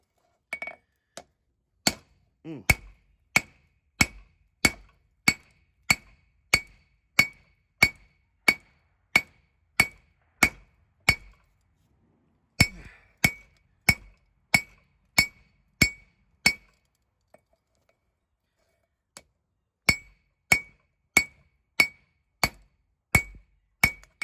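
Sharp, ringing metallic hammer blows on a steel ball peen hammer being forged into a tomahawk repeat at a steady rhythm, loud and close, with two brief pauses between runs of strikes.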